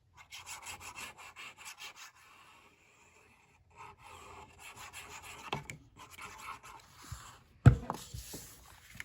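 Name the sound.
burnishing paper pocket page of scrapbook album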